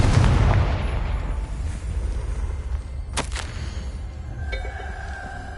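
Confringo spell explosion in Hogwarts Legacy: a loud booming blast opens the moment and rumbles away, followed by a sharp crackling burst and fainter magical tones ringing out.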